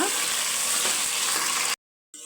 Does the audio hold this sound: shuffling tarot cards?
no